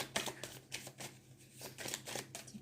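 Cards shuffled and drawn for a card reading: a run of short, close riffling and slapping bursts separated by brief pauses, with no talk.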